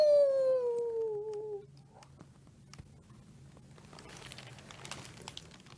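A voice imitates a wolf howl with one long, falling, sliding cry that fades out, followed by quiet rustling and faint background noise.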